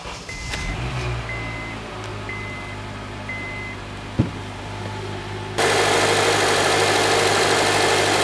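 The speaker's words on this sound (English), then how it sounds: "let's start up the vehicle" A 2003-2007 Honda Accord engine after a fuel injector replacement, heard idling steadily up close with a low continuous hum, a brief click partway through, then a louder broadband rush near the end.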